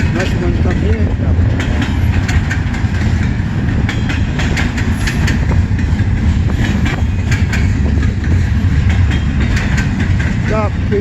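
CN freight trains meeting eastbound and westbound at Emmett, Michigan: a loud, steady rumble of rail cars rolling past close by, with continuous wheel clatter and squeals throughout, and voices faintly under the noise.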